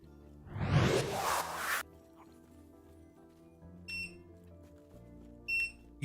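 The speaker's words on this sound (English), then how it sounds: "you can probably hear the beeps. It just beeps when it's starting." Two short, clear electronic beeps from a device sitting on the floor as it starts up, spaced about a second and a half apart, following a brief rushing burst of noise.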